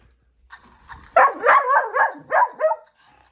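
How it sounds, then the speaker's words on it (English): A small dog barks repeatedly at a toy, a quick run of five or six sharp, close barks and yips after a couple of faint whimpers. "He just barks at it."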